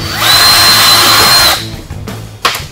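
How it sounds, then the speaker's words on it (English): A power drill with a 1/4-inch bit bores a small hole in a door insert for a 2015 Polaris 900S side-by-side, whining steadily and loudly for about a second and a half before spinning down, followed by brief handling clatter. "And I'm going to take a 1/4-inch drill bit"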